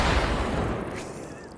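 A 4th of July cannon firing a confetti round in the VR game H3VR: a heavy, booming blast with a dense low rumble that decays over a second, loud and close.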